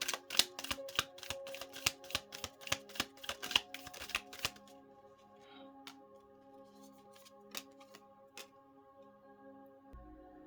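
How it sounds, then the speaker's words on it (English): Crystal cards being shuffled by hand, a quick series of faint crisp riffling clicks for several seconds, then a few scattered soft taps over quiet background music. "I'm going to pull a few crystal cards for those who's in the 6 of Swords' energy."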